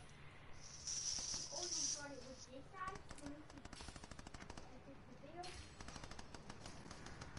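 Gunfire in a video game with ODM gear, quiet rapid bursts of shots mixed with hissing effects while a voice talks over them.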